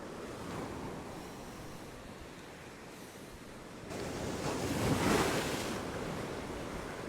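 Ocean waves break over coastal rocks at a windy fishing spot, a constant rushing wash that surges louder halfway through as a bigger wave comes over, with wind noise on the microphone.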